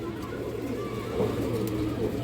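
Pigeons coo in low, soft murmurs at a pigeon seller's, the calls faint and continuous against a steady background hum.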